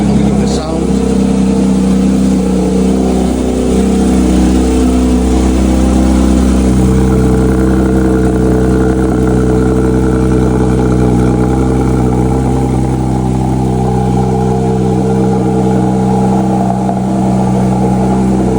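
A Porsche 911 GT3 70 years anniversary edition idles loudly and close by, its engine note lifting in a short rev early on before settling back to a steady idle.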